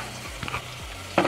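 Garlic, ginger and green chilli paste stir-fried in oil, a soft continuous sizzle broken by a few low scrapes of a spoon across the pan and a brighter clatter at the end.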